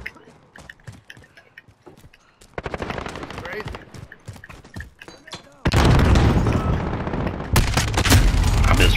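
Rapid automatic gunfire and heavy bursts in a Call of Duty Modern Warfare match, starting sparse, then building into dense, loud sustained fire with booming impacts in the second half, no speech.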